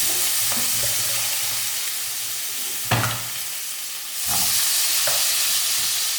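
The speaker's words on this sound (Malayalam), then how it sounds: "നമുക്കിത് നന്നായിട്ടൊന്ന് വഴറ്റിയെടുക്കാം." Beef coated in masala powders sautéing in a pan, a continuous loud sizzle with occasional stirring scrapes and clatters of the spoon against the pan.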